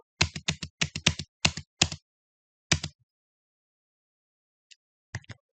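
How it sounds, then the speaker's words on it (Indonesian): Bursts of fast keystrokes on a computer keyboard as program code for a cashier application is typed, quick clustered taps with short pauses and a few final isolated strokes, close and clear with no talking. "Kemudian ketikkan perintah print no."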